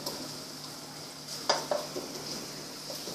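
Chicken stir-frying in a very hot wok, a steady close sizzle with a couple of brief metallic scrapes near the middle.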